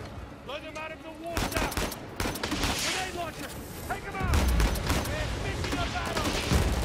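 Rapid bursts of automatic gunfire in Uncharted 4, with repeated cracking shots and heavier booms, loud and close, broken by short pauses, while someone talks over the shooting.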